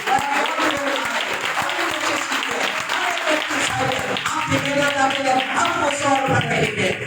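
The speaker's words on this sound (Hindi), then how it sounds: "तो तालियां बजाएं बच्चों के लिए" Audience applause for children at a Hindi-language church gathering, loud, dense clapping from a crowd that runs continuously and close throughout.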